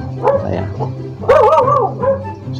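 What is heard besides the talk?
dog barking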